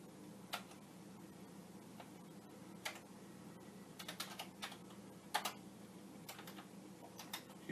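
Sparse, irregular keystrokes on a yellow-keyed Commodore 64C 8-bit computer keyboard, quiet and close, clustered tapping with short pauses between bursts and no talking.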